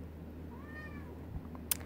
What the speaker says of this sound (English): Kitty's trying to join me here.